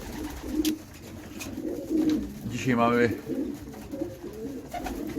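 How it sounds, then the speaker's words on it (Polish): Pigeons coo softly in a loft at feeding time in a low, rolling burst, mixed with faint chirps and background shuffling while a person speaks briefly at the start. "kolejny dzień z gołębnika. Właśnie zakarmią gołąbki."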